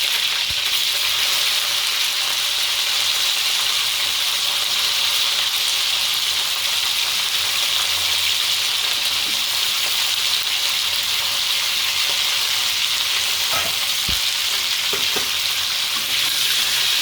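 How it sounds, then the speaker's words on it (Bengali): Cauliflower pieces frying in mustard oil give a loud, continuous hissing sizzle with an even roar throughout, broken by occasional small pops and crackles, heard close and alone. "এরপরে ফুলকপিগুলো বেশ ভালো করে লালচে করে ভেজে নেব।"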